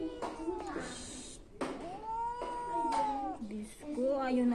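Pet cat yowling and meowing in protest during nail trimming, several drawn-out rising and falling cries close by, with people talking around them.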